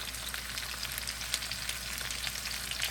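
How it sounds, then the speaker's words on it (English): Sautéed peppers and onions land on steak and potatoes frying in a pan, giving a steady, close, continuous sizzle with crackling spatter and no talking. "peppers and onions that I'd already sauteed. I'm just going to drop them right on top of there."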